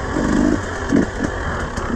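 An enduro motorcycle in second gear on a hard enduro training track, its engine note rising and dipping in short throttle bursts, close and fairly loud with wind noise.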